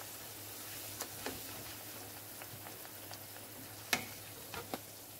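Fried plantain (dodo) crackles softly in hot oil, a faint steady sizzle dotted with occasional sharper pops.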